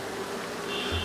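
Honey bees buzz around an open beehive during an inspection, a steady close hum that thickens slightly near the end, with no voices.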